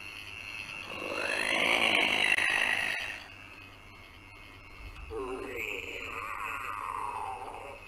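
Two drawn-out electronic growls from a Hasbro Ghostbusters Afterlife PKE Meter toy, each a rough, wavering snarl that swells and fades, separated by a brief quiet gap.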